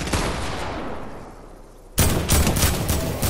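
Video game gunfire: a decaying burst of shots fades out, then a loud new volley breaks in and keeps rattling in rapid, dense bursts up close, with no talking.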